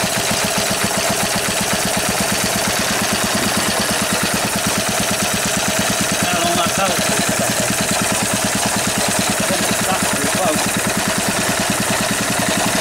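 A Lister D engine driving a Briggs lighting plant runs at a steady rapid thump, loud and close, with a constant mechanical clatter throughout.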